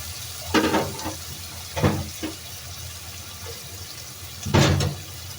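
Water goes into a hot pot of masoor aloo pulao in three short, splashy bursts with a sizzle, separated by quieter simmering gaps.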